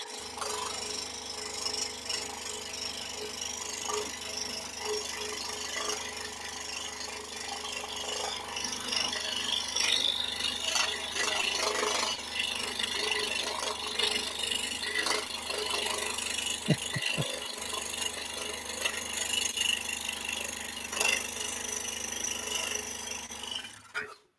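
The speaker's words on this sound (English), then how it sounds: "while I drill pilot holes" Steady broadband whirring and grinding of a drill boring pilot holes into wood, running continuously with a few brief catches, fairly close and no talking.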